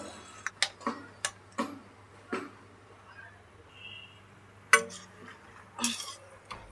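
Almonds roasting in a dry pan for a sugar-free dry fruit laddu, with scattered clicks and clinks of nuts and a spoon against the metal, fairly faint and irregular over a low hum.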